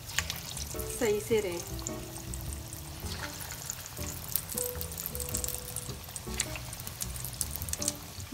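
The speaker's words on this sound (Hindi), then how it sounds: "जैसे ही ऑयल में डाला है, फील हो रहा है कि ऑयल गरम है, तो इस तरह से सब टिक्के हम फिश के ऑयल में डाल देते हैं।" Fish tikka pieces are lowered into hot oil and fry with a continuous crackling sizzle, close by, while someone talks over the cooking.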